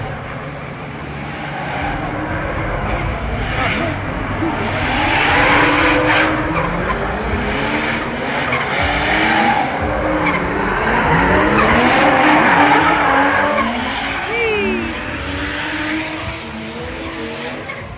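Loud, continuous tire screeching from cars drifting close by at a DriftMasters practice session in Ferropolis, with engines roaring and rising and falling in waves over a dense rumbling background.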